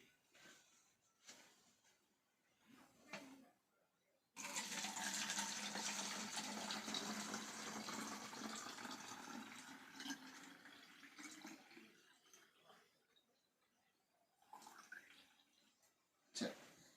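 Water pours steadily into a container pierced with three small holes, a loud broadband rush lasting about ten seconds before tapering off, with quieter handling noises and brief sounds before and after.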